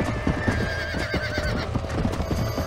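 A horse in the video game Red Dead Redemption whinnies while its hooves beat a quick galloping clip-clop, the neigh riding over the steady hoofbeats at moderate volume.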